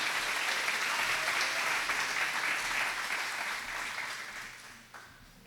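A church congregation applauds during a sermon, a dense roar of clapping that holds steady and then gradually fades away.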